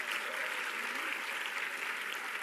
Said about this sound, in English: Let's give a big round of applause to Archbishop Ndanga